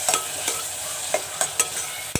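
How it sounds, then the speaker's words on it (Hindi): Green peas fry in a pan for keema matar, a steady sizzle punctuated by several distinct scrapes and clacks of a spoon stirring, ending on a sharp knock against the pan. "मटर हमारे फ्राई होने लग पड़े हैं"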